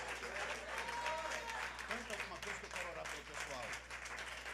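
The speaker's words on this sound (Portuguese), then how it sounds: "aplauda Ele, glorifique a Deus" A church congregation applauding, a continuous crowd of clapping hands at moderate distance, with voices and a low electrical hum running underneath.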